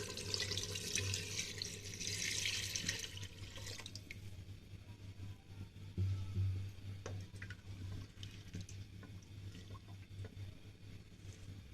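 A jug of water poured into a cooking pot of mutton for kunna gosht, a soft steady splashing stream for a few seconds, then quieter bubbling and sizzling with faint kitchen noise.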